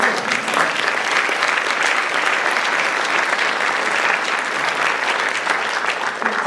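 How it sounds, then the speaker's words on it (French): Steady, full applause from a public audience at a talk, many hands clapping evenly with little else heard. "vous pouvez applaudir"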